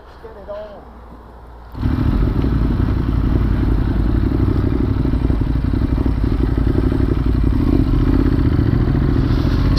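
A Ducati 916 motorcycle roars into a loud, steady engine drone after a short quieter start, riding along a gorge road with constant rumble and wind noise throughout.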